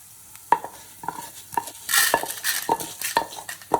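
Fenugreek seeds and black pepper are dry-roasted in a pan for tamarind rice powder, with a spoon stirring and scraping in a steady rhythm of clicks and brief sizzling rustles, heard close with no talking.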